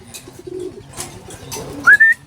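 A young pigeon gives soft, brief coos and a short rising whistle-like squeal, close by and alone over a quiet background.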